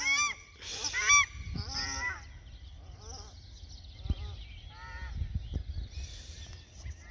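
Several ducks honk and quack loudly while flying low overhead in the morning, calls bunching into a noisy burst at the start, then scattered calls continue as more birds pass near.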